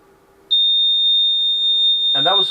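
A sustained electronic alarm tone from an aircraft annunciator system built for a Challenger 2 starts sharply and holds steady for about two seconds, heard through headphones, before a voice begins speaking over it.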